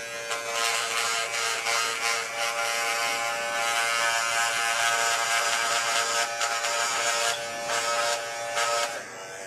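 Electric hair clippers with a short blade run on turbo mode up close, giving a steady high-pitched buzz that wavers slightly as they move over the scalp and then drops off at the end, with no talking.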